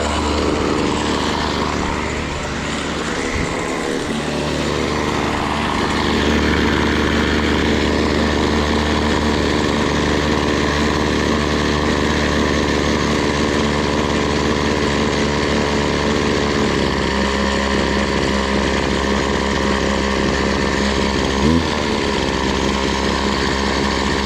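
A small two-stroke weed eater engine bought at a garage sale runs steadily with a buzzing drone, idling too high so the head keeps spinning, with a brief dip around the middle and no talking.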